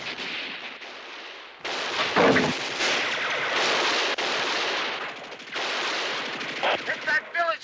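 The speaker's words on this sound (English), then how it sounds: "Those mortars have the whole battalion pinned down." Staged battle sound effects for a TV drama rumble through the clip, with mortar blasts and dense gunfire rolling continuously in loud, overlapping waves, and a few shouted voices breaking through near the end.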